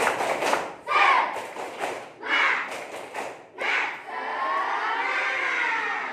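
A class of schoolchildren in a classroom does a rhythmic spirit clap during a teaching-practice competition lesson. Bursts of clapping and group chanting come in several loud waves, followed by a sustained murmur of young voices.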